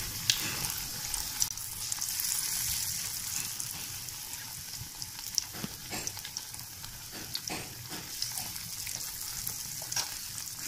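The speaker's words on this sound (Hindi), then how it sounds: "इनको हम मीडियम गैस पे अच्छे से सिकने देते हैं।" Potato and gram flour pakoras deep-frying in hot oil in a wok over a medium flame, a steady, continuous bubbling sizzle with small crackles throughout and no talk.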